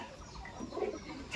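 A male Giribaj high-flying pigeon coos in soft, low burbling notes close by, with light background noise.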